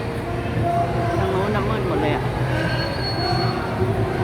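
An elevated skytrain rumbles overhead at the Lat Phrao intersection in Bangkok around dusk, with high metallic wheel squeals, loud and close, while people talk beneath it.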